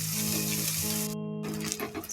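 Onions are added to a pan and fry with a continuous sizzle and light hiss, mixed with a steady low hum and brief stirring sounds near the end, with no talking.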